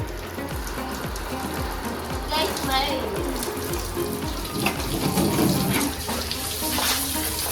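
Water runs and splashes steadily from a hose or tap as a vehicle is washed, with voices faintly audible underneath.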